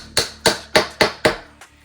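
Five sharp, evenly spaced taps as wooden dowels are driven into holes in a piece of IKEA flat-pack furniture, followed by a fainter sixth knock, close and distinct with no talking.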